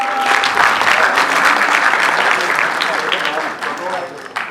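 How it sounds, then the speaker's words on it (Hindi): Sustained audience applause fills a hall at an award ceremony for Punjabi books, dense and steady clapping that carries on for several seconds before thinning slightly at the end. "तालियां हो जाए जरा"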